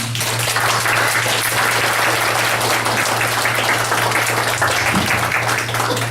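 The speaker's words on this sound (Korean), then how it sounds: "우리 문성근 대표님 큰 박수로 환영하겠습니다" A lecture hall crowd welcomes the guest speaker with sustained, even applause that fills the room at a constant loud level, with a low electrical hum underneath.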